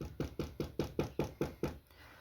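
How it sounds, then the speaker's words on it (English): Knocking on wood: about eight quick, evenly spaced knocks in a steady rhythm, fairly faint and close, with nothing else heard. "Knock on wood."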